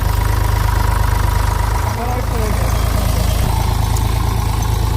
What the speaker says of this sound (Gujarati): ટ્રેક્ટર લઈને ભાડે ખેડવા માટે.